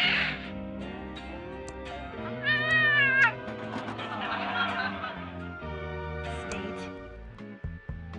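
A cat meows repeatedly on a TV channel in the adventure game Thimbleweed Park, drawn-out wavering yowls over a steady synthetic game soundtrack, fairly close and clear.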